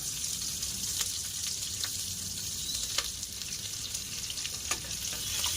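Chopped onions and green chillies fry in hot oil in a pan, a steady close sizzle with faint scattered pops and crackles throughout and no talk.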